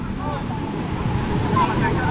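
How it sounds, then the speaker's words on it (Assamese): Ocean waves at the sea, a broad, continuous wash of surf mixed with wind rumble on the microphone, loud and close, with a voice faintly audible underneath. "ঢৌ চাওক ঢৌ চাওক ঢৌ চাওক"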